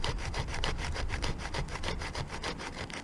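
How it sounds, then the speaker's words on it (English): The small saw blade of a Swiss Army knife rasps back and forth through wood to make fine shavings, a close, steady rhythm of quick scratchy strokes with no voices, heard at a camp shelter. "I'm using the saw blade now on the Swiss Army knife just to get some really fine"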